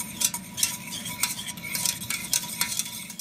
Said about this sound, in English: We're going to finish stirring in our butter here for our beurre blanc sauce.